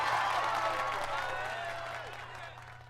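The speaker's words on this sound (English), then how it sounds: "The crowd erupts into cheering and applause at the spectacle." Crowd cheering and applause from a sound effect in the visual novel game 428: Shibuya Scramble. The cheering is loud at the start and slowly fades, with a constant low hum beneath it.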